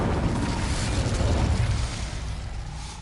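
An Incendio fire spell is cast in Hogwarts Legacy, a loud, dense whooshing blast of roaring flame that holds steady and then tapers into a softer crackling rush.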